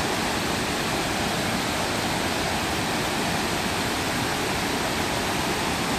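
A steady, dense roar of Thi Lo Su waterfall in Thailand fills the whole clip, loud and close, with no voices.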